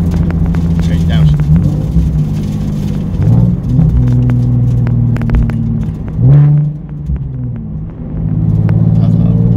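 Nissan 370Z engine droning steadily while driving, a low loud rumble with gear-change dips and revs rising again, heard from inside the car with people talking over it.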